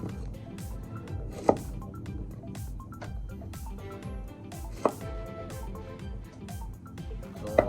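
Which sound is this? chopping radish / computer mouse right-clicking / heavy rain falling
chopping radish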